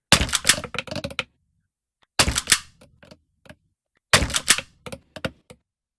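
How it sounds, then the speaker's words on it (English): Rapid clattering bursts of BB pellet impacts from an airsoft training simulator game, three separate clusters of sharp ticks and cracks scattering and bouncing, with silence between them. "the BBs now have impact sounds. So you can have that classic, just like clattery noise going all over the place"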